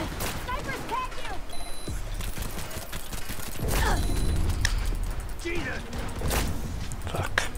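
Heavy artillery and gunfire in the Cyberpunk Phantom Liberty game, with rolling bursts of shots and thuds blending into a dense, continuous battle din, building louder midway, while voices talk over it.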